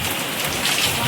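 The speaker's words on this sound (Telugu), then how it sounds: "వర్షం మాత్రం చాలా ఎక్కువ పడిపోతుంది ఈరోజు" Heavy rain pours down during a windy storm at home, a dense, steady roar of drops with no break and no voices.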